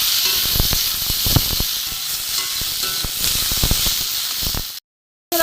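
Chopped onion and tomato fry in a pan with panch phoron for a fish-head and okra chorchori, giving a loud, steady sizzle and hiss with scattered pops, broken by a short silence near the end.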